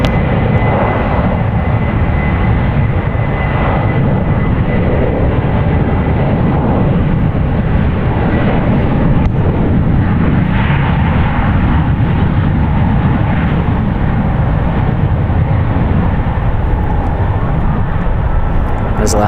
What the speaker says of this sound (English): It's a Boeing 737-900ER, 10 years old.